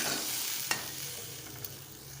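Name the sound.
water added to frying fish curry, sizzling and stirring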